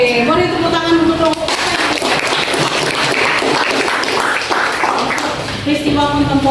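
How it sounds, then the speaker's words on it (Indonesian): Audience clapping in a classroom, a burst of steady applause from a group lasting about four seconds, with someone speaking just before and after it. "boleh tepuk tangan untuk"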